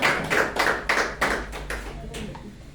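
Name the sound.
church congregation applauding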